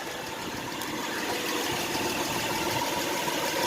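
A 2011 Honda Pilot's 3.5L engine idles after an oil change, a smooth, steady mechanical hum heard from close by with no talking.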